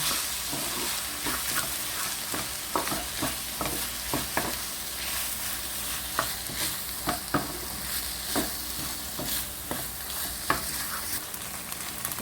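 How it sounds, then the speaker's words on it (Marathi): Recheado masala stuffing for Goan squid and chorisa frying in a pan, a steady close sizzle broken by repeated scrapes and clacks of stirring, with no talk. "तें हांव रेशाद मसाला घाता हितून आनी फ्राय कोता हांव"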